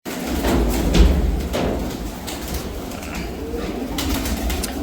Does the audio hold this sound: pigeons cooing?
yes